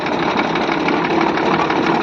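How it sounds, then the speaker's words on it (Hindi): A tractor engine running on a sugarcane farm during spraying, a steady loud rumbling drone held close throughout with no clear start-up and no voices. "देखो ट्रैक्टर स्टार्ट हो गया और चलना शुरू हो गया"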